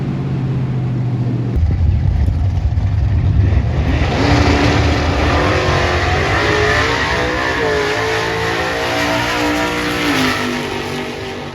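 A white Fox Body Mustang makes a loud drag racing pass at National Trail, engine roaring up through rising revs and gear changes close by, then a long sustained pull as it accelerates away.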